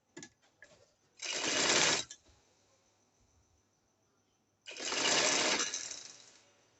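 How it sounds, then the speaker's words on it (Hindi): A sewing machine stitches a cloth poncha in two short, close bursts of rapid whirring, separated by a few seconds of near silence with faint handling sounds. "देखिए हम अब अपनी गुम सिलाई लगाने लगे हैं"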